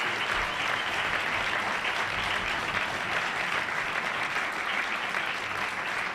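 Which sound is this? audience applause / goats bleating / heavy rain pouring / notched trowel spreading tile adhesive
audience applause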